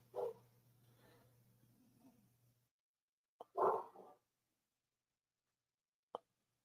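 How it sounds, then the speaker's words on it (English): A dog gives a few close, sharp barks in separate bursts with quiet gaps between them, then one last short yelp. "my dogs are going crazy"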